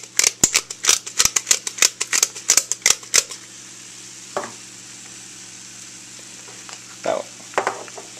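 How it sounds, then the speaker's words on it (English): Ground meat sizzling and frying in a skillet for spaghetti sauce, with a quick run of sharp scraping and stirring strokes over the first three seconds, then a steady sizzle broken by a few later scrapes. "When you put the meat in the skillet, prepare to break it up really quickly."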